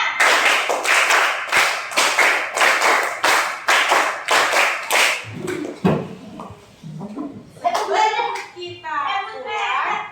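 A school class claps in a steady counting rhythm game, a run of about fourteen sharp, evenly spaced claps, followed by children's voices chattering and calling out.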